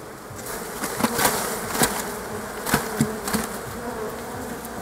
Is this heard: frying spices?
no